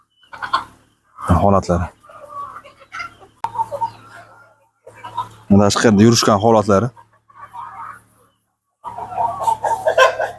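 Andijan black chickens roaming outdoors in the cool evening cluck in short close bursts that alternate with someone talking nearby.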